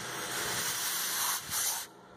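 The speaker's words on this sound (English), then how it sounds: "Just hosing out with some high quality brake cleaner" A loud, continuous aerosol spray of brake cleaner hisses for about two seconds, briefly dipping once before cutting off.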